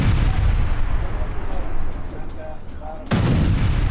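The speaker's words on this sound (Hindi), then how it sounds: "तो आप देख रहे हैं तस्वीरों में एक के बाद एक कई धमाके हो रहे हैं" Heavy bombardment strikes in Gaza, Lebanon and Syria rumble as a series of deep booming blasts, a loud low thud landing near the end, with a news voice talking over them.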